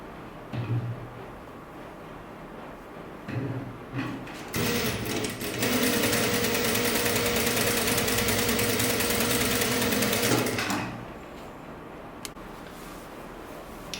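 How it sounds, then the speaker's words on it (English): A sewing machine stitches a seam on a sleeveless top, running in a steady loud whir for about six seconds after a few short starts, then stopping, with quiet room sound around it. "After you sew them together, you have the shoulder like that."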